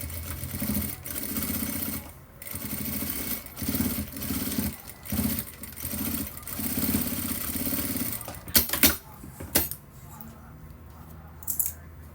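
Sewing machine stitching over an existing seam to finish a small fabric pouch, running in short bursts with pauses, followed by sharp clicks and fabric handling near the end.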